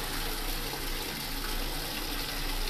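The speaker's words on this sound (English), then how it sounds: "got the pump primed and on, got the water filling up" Water pouring steadily into a hydroponic nutrient reservoir tank, a dense continuous rushing and splashing wash that stays loud and unbroken the whole time.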